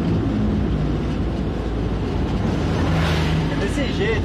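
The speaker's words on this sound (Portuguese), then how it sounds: "agora eu tô acelerando pra caramba" A car engine revs hard during a tachometer test, a loud, close, steady roar that holds without letup for the whole stretch.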